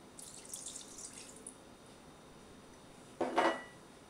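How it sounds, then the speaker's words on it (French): Water is poured into a bowl of vegan oat and raisin cookie batter, a short, close splash near the end following faint kitchen clinks and hiss. "je vais rajouter aussi mon eau."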